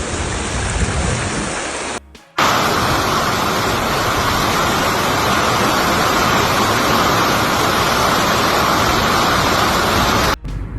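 Floodwater rushing through Belgrade during a storm, a loud, steady broadband roar like heavy rain or a torrent that fills the whole clip, broken by two brief cutouts near the start and the end.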